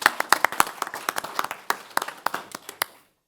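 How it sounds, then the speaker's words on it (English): A small group gives a round of applause in a county board of commissioners meeting, a sparse, close cluster of distinct hand claps for about three seconds before stopping abruptly. "So I just want to give you a personal round of applause and thank you."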